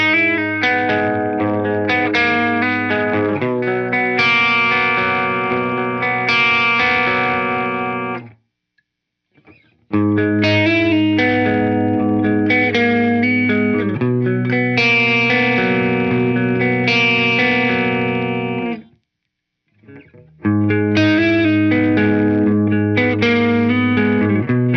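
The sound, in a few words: Gibson Les Paul Classic guitar with light drive, bridge middle neck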